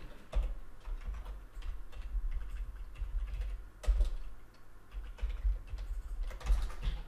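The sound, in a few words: typing code on a computer keyboard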